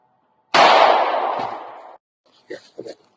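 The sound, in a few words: gunshots fired at paper target from 3 yards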